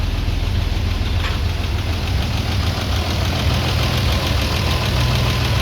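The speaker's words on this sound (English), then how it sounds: "So it's still idling high from a cold start right now." A Toyota FJ62 engine idles high after a cold start, a steady close mechanical drone with a faint rhythmic knock and no talk.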